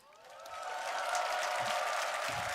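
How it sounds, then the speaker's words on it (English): A big arena crowd at a Dota 2 esports finals applauds, the clapping swelling from a quiet start into a steady, dense wash that holds to the end, with no voices over it. "The arena giving you a big round of applause there."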